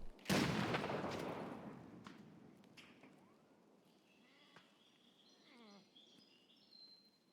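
A single loud grenade blast in Escape from Tarkov, a sharp close explosion with a long rumbling decay, followed by quieter scattered game sounds and faint whining tones.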